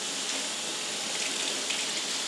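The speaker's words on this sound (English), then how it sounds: "I'm just going to run some water on that to help." Tap water runs steadily over the roots of a grocery store Phalaenopsis orchid during repotting from moss to bark, a bright continuous close splashing hiss with no voices.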